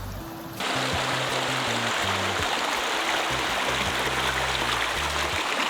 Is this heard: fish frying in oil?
no